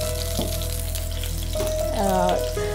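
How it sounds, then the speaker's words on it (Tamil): Cashew nuts roasting in a pan for tender coconut payasam give a steady close sizzle and crackle with a low background hum and faint stirring clinks. Nobody speaks. "இப்போ வந்துட்டு கேஷ்யூ நட்டை வந்து ரோஸ்ட் பண்ணுறது"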